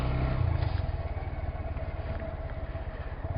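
A 2020 Honda Grom MSX125 small motorcycle engine idles steadily nearby, a low, even pulsing chug that stays constant throughout with no one speaking.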